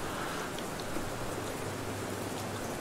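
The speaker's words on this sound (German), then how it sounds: "Auch der Regen auf dem Boden und so weiter" Steady rain falling on the ground in the video game Grimtales, an even, continuous hiss of drops with no breaks and no talking.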